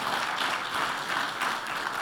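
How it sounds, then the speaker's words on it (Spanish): A church congregation applauds during a sermon, a steady, dense wash of clapping that holds at an even level for the whole moment. "Dale un aplauso al Señor"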